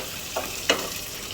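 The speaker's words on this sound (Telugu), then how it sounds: "తర్వాత ఉల్లిపాయ వేసుకోవాలి. అది బాగా వేగిన తర్వాత" Onion frying in a pan for an okra fry, a steady sizzle under two quick scraping stirs, the second louder, close and alone without talk.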